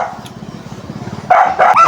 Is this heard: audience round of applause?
no